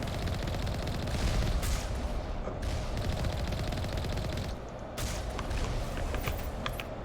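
Sustained automatic turret gunfire from Mass Effect combat, a dense, loud continuous barrage with brief dips and bursts, no speech over it.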